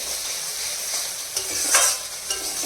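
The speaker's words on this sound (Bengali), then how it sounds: "আর এই জাপানি পুটি মাছের এত তেল বেরোয় ভাজার যা তেল দিয়েছি তার ডবল হয়ে গেছে" Japanese puti fish frying in plenty of oil, giving a steady close sizzle with a brief louder crackle partway through and no talking.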